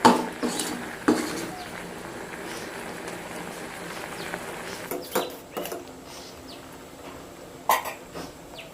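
Thickening pineapple jam is stirred in a pan with sugar added, giving a steady soft bubbling, sputtering texture broken by a few sharp spoon clicks against the pan.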